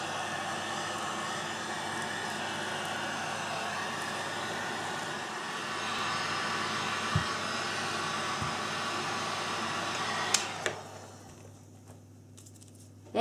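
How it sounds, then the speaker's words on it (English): A heat gun on its low setting shrinks plastic wrap around bath bombs with a steady, close blowing hiss. A few light handling taps come partway through, and the gun switches off near the end. "finish them off by shrinking them with the low setting on the heat gun."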